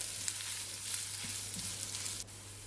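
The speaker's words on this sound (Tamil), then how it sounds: "இஞ்சி பூண்டு பேஸ்ட்டு சேர்த்த பிறகு அதோட ராஸ்மெல் போகிற வரைக்கும் நல்லா வதக்கி விட்டுக்குவோம்." Onion with ginger garlic paste sautéing in a pan for a prawn and drumstick thokku, a quiet steady hiss of frying with faint stirring, alone and fairly soft.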